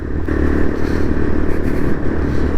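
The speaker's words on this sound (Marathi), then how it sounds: "नशीब ऑफ रोडिंग बाईक घेतली आहे" An off-road motorcycle rumbles steadily along a rough, broken road on a ride from Leh to Turtuk, its engine drone loud and close with rattling and scraping over the bumps.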